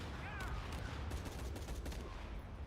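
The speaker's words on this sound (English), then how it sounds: "which will bring down this helicopter here that's shooting at me right now" A helicopter fires on the player in Shadow of the Tomb Raider, a dense, continuous burst of rapid gunfire with overlapping shots, loud and unbroken throughout.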